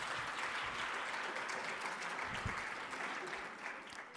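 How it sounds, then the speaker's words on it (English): An audience at a youth economic council event gives a round of applause: dense, even clapping, fairly quiet and distant, fading slightly toward the end. "before you give him a round of applause"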